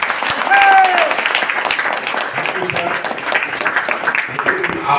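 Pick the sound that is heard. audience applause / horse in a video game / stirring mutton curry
audience applause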